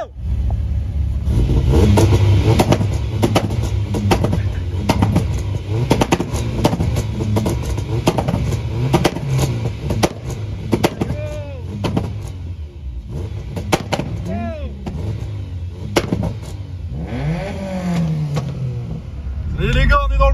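Cars set off in a convoy toward a drift event featuring Japanese cars such as the NSX, Supra and Skyline. Engines rev and accelerate loudly and continuously close by, and people talk over the constant motor noise.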